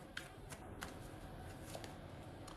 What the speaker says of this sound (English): I'm not looking for the advantageous card here. Just shuffling.